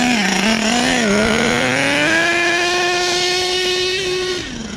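Nitro engine of an HPI Savage XL K5.9 RC truck revving hard outdoors, a loud close buzzing whine that rises and holds high, dips briefly, then climbs again before easing off at the end.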